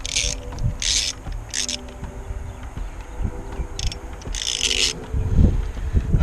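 Gear puller working off a car's crankshaft pulley: close metallic ratcheting and scraping in irregular bursts, with bright hissy squeaks recurring over steady low mechanical rumble, no talk.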